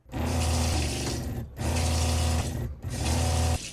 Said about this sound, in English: they sense whenever you turn something on like a sink, and they just start pumping